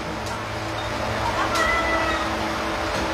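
A cat meows a few times at an evening meal outdoors beside rice fields in rural Chai Nat, Thailand, with steady low background noise underneath.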